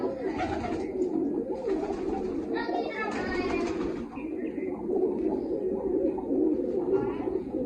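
Large racing pigeons for sale coo in soft repeated throaty calls close by, mixed with other birds chirping, while someone talks over them throughout.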